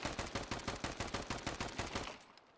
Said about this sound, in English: if you take out a weapon and try to shoot it